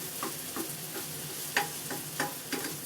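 Tomato sautéing in oil in a pan for Filipino ginisa, a steady soft sizzle broken by repeated stirring scrapes and light clinks at an even rhythm, close by with no talking.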